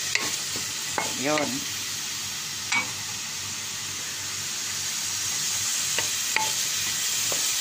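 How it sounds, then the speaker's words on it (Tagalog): Onion, ginger and garlic sauté in a pan for sinigang na hipon, a steady bright sizzle with occasional clinks and scrapes of stirring, close and continuous, with a brief spoken word over it. "Mix-mix po na yung mga ingredients na sibuyas, luya, at bawang."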